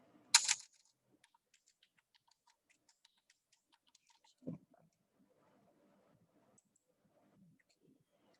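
A few keystrokes on a computer keyboard while working in an Excel spreadsheet: one sharp clattering burst early on, a duller thud midway, and scattered faint ticks in between, all quiet and close with no one speaking.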